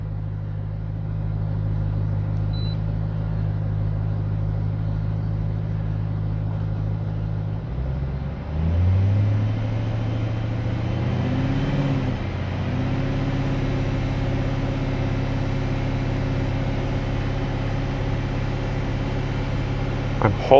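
A BMW car engine idles steadily, then revs up and is held at an even 2,000 RPM, a constant close mid-pitched hum and rumble that runs on unbroken with no talk.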